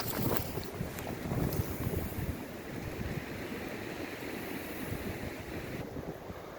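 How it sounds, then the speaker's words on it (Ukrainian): Steady wind rushes and roars with gusty swells, loud against the microphone, with no voices. "Вітер шумить, вітер гуде"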